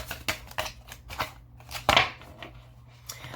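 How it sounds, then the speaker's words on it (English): Tarot cards being shuffled by hand in a series of short riffling and slapping bursts, with one louder flurry partway through and quiet pauses between, close and alone. "These cards don't want to shuffle."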